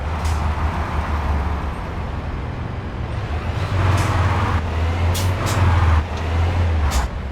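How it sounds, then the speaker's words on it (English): Jake engine brake on a truck in American Truck Simulator, a low loud throbbing rumble that swells and holds for several seconds, with brief hissing bursts over it and no talk. "I'm gonna let it go one more time, the Jake."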